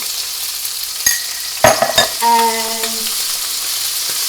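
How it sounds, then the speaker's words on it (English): Tomatoes and dried oregano frying in a very hot pan, a steady loud sizzle running throughout, broken by a few sharp utensil clatters and stirring knocks near the middle. "It's a nice loud sizzle, and it's meant to be that hot."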